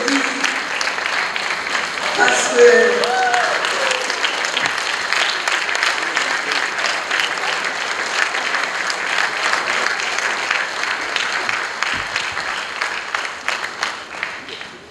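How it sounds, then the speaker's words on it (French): An audience stands and applauds Belgian guests at a Maison Shalom gathering, long even crowd clapping held at a steady loud level, with faint voices briefly audible near the start. "Levez-vous, on va vous applaudir."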